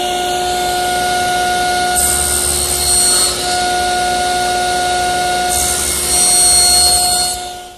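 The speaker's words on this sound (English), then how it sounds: "Now with the miter gauge set at 15 degrees on the other side of 0, I'll cut the corresponding rail." A table saw with its miter gauge set at 15 degrees cuts a wooden rail for a coffee table, giving a loud, steady motor whine with a sustained tonal hum that swells as the blade bites around two and six seconds.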